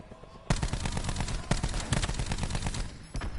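Rapid automatic gunfire in a competitive Call of Duty match, with a player spraying through a wall in dense, loud, close bursts and brief pauses between strings of shots.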